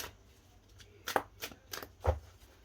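A tarot deck riffled several times in quick bursts, close by, with brief crisp flutters separated by short pauses.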